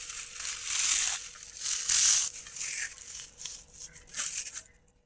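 Dried kuppaimeni, neem and tulsi leaves crushed by hand, giving soft, close crackling and crinkling in several uneven bursts, fairly quiet and alone without speech.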